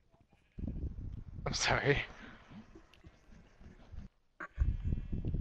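Sheep bleat while being herded into a shelter, one loud nearby bleat rising over shuffling and handling noise, with people talking around it.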